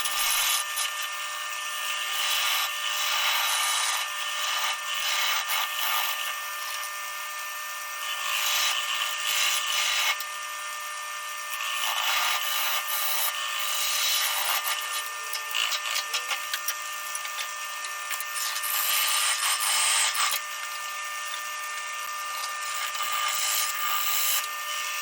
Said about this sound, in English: I ended up pulling out the carbide because it was a lot faster for hollowing out the middle though.